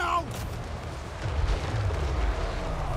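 Cannon artillery fire rumbles in a Total War: Warhammer 3 battle, with a deep, drawn-out boom and low rolling thunder under a dense wash of battle noise and voices.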